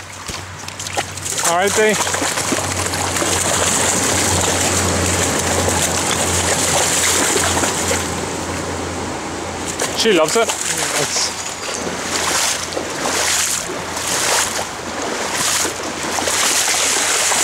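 A dog wades in a river beside a handler in chest waders. The water sloshes and splashes steadily and close, and people talk over it.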